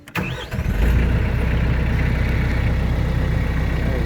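A TYM T574 HST tractor's diesel engine cranks briefly and fires up, then settles into a steady, loud, close idle with a deep rumble and no voices.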